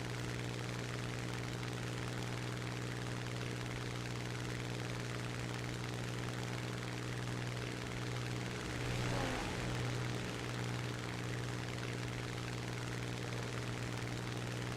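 Green propeller planes fly in a simulator battle game, their engines droning steadily and evenly throughout, swelling slightly midway.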